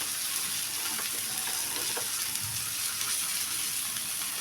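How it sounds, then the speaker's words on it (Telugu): Fish frying in a pan over a low flame, a steady soft sizzle of hot oil with faint crackles, continuous and moderately quiet throughout, no talking. "కొద్దిగా వేగనివ్వాలి"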